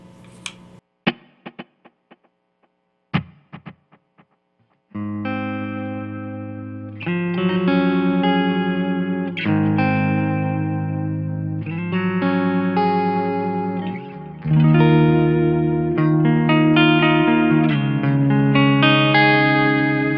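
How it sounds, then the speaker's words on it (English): Electric guitar through two stereo tape delays panned hard left and right, one repeating on quarter notes and one on dotted eighths: a few short muted chucks bouncing between sides, then strummed chords ringing with echoes, loud and alone. "I have one set to be a quarter note repeat and one set to be a dotted eighth note repeat, and I have those panned hard left and right"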